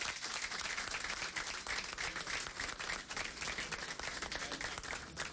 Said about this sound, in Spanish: a quien yo también le pido un fuerte aplauso para él